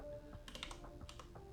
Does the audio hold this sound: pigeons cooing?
no